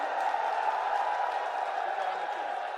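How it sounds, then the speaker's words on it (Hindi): Audience applause in a crowded hall at a Ramlila ground event in Delhi, greeting Sonia Gandhi on her arrival; a steady, dense wash of clapping from a large crowd that holds evenly throughout. "तालियों से स्वागत कीजिए।"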